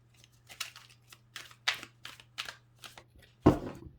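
A run of quick riffling tarot card shuffles, crisp bursts close up, ending in a louder final snap, with a faint steady hum underneath.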